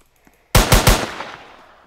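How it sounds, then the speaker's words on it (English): A rapid burst of three loud gunshots from a gun in a Roblox game, fired close together after a quiet pause, then trailing off in a decaying echo. "now we should be able to shoot the person with our gun"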